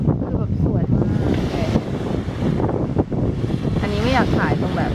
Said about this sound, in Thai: ลมก็แรงนะ